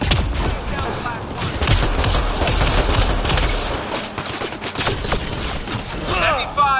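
Dense, sustained volleys of heavy gunfire and explosions in a PS4 shooter game, with a game voice speaking over the constant barrage.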